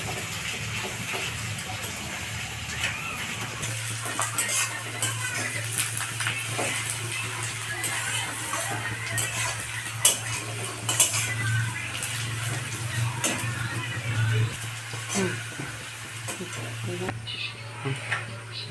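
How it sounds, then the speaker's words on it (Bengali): Onions fry in a pan while being stirred, a soft sizzle mixed with intermittent utensil scrapes and clinks against the pan under a steady low hum, fairly quiet and without talking. "এবার আমি পেঁয়াজ দিয়ে দিচ্ছি। পেঁয়াজটা এবার লাল করে ভেজে রাখবো।"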